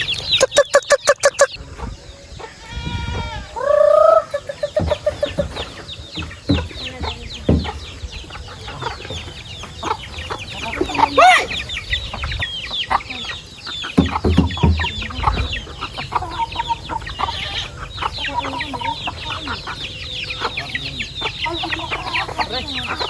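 Backyard chickens clucking and squawking as they crowd in to be fed, loud and close, with busy overlapping clucks, a few sharp calls and scattered rustling and pecking throughout.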